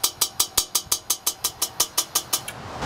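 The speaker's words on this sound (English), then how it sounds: "You can hear it clicking away inside the combustor." The igniter inside a homemade turbojet's combustor, taken from a Rolls-Royce Dart turboprop, clicks in a fast, even series of about fourteen sharp snaps, close and clear, then stops, leaving a soft hiss.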